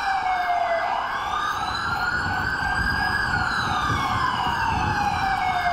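A police car siren in the video game GTA V wails in slow rising and falling sweeps, loud and continuous, over a low engine rumble.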